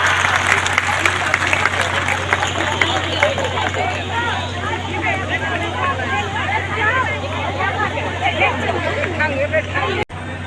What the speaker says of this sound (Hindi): जोरदार तालियां, जोरदार तालियां, जोरदार तालियां।